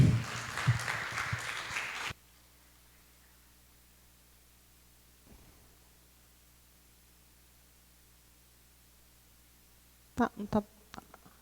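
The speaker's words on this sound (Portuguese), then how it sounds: "Eu peço aos irmãos que aplaudam ao Senhor Jesus" A church congregation claps in a short, dense burst that stops abruptly after about two seconds, leaving a long near-silent stretch before a speaking voice begins near the end.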